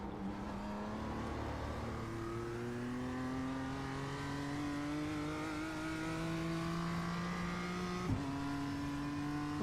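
BMW M2 race car in the iRacing sim, its engine revving up steadily through the gears with rising pitch and a brief shift dip near the end, loud and continuous, no talk.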